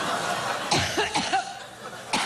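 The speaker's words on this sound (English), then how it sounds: "That's a lot of coughing." A harsh, hacking cough from a woman on the campaign trail, a short burst of three or four coughs standing alone.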